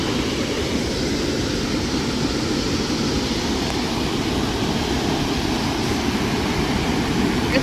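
Water rushes steadily through a drain among rocks in the wilderness, a loud, continuous broadband roar with no breaks or voices.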